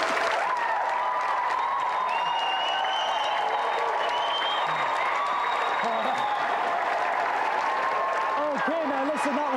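Sustained crowd applause and cheering from a game show studio audience fills the whole stretch, with a voice talking over it.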